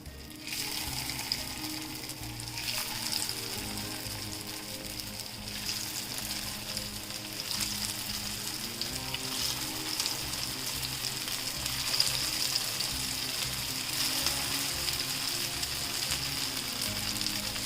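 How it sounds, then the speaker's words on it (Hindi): Shami kebabs shallow-fry in hot oil with a steady, continuous sizzle that holds evenly throughout, close by and without any talking. "तेल हमारा गर्म हो चुका है, अब इसमें हम डाल देते हैं कबाब।"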